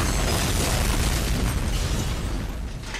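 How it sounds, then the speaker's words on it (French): A self-destructing coin blows up in a cartoon, a loud, dense, sustained roaring blast that fills the whole clip and fades slightly at the end. "L'explosion aura lieu dans 10 secondes."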